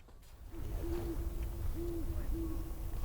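Owl hooting on Mount St. Helens at night, three soft, evenly spaced hoots at a moderate distance over steady outdoor background hiss.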